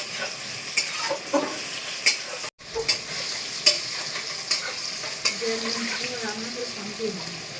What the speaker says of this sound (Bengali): এটা ভাজছি হচ্ছে মিষ্টি কুমড়ো